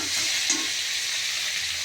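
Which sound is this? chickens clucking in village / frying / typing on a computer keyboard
frying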